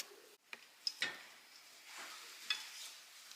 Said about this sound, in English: And we'll just keep stirring it fairly consistently.